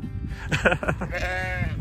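Sheep in the Welsh Valleys give a few short wavering bleats, close and clear, followed by a longer drawn-out bleat.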